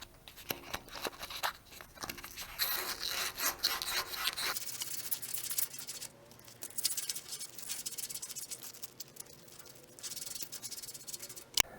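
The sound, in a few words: sanding rust off a metal part with sandpaper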